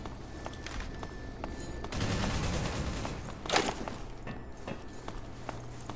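Faint, distant machine gun fire crackles in rapid strings during the Half-Life 2 Episode 1 finale, swelling in a dense burst midway, with scattered thuds and footsteps around it.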